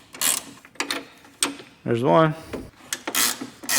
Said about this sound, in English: next we'll remove these two little hold-down brackets, which are held in by two 12mm bolts